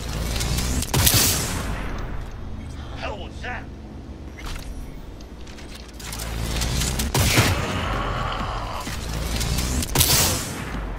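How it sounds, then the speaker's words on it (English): Gunfire in the video game Cyberpunk 2077 from a sniper rifle that shoots through concrete walls: several loud, sharp shots spaced seconds apart over dense background game noise. "It's a good thing that I have a sniper rifle that will shoot through concrete walls."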